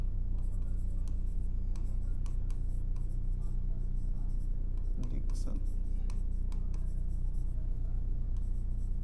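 Marker or chalk scratches across a classroom board while a maths lesson is underway, giving brief scraping strokes and taps over a steady low hum, with a teacher's voice talking.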